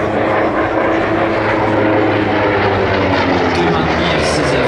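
A Corsair F4U-5 propeller fighter flies at the Air Legend 2024 airshow, its piston engine giving a loud, steady, rumbling drone with no break for the whole stretch.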